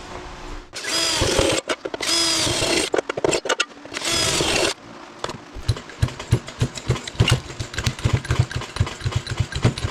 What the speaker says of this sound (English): I'm gonna drill a few holes here.